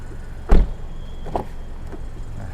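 The electric rear window sunshade of a 2018 Toyota Camry 2.5G moves with a low motor hum inside the cabin, framed by a soft thump at the start and a small click partway through.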